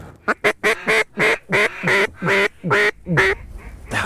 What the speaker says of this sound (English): You heard the hen mallard quacking.